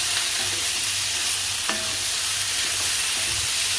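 Boiled potato pieces for batata bhaji being stirred in a hot pan, a dense continuous sizzle with spoon scrapes and knocks, close and loud, no talking.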